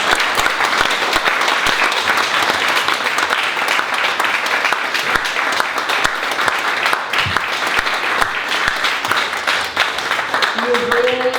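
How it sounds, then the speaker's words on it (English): An audience at a public forum on child protective services gives a long, loud round of applause, dense clapping sustained throughout without a break. "Let's give them a round of applause."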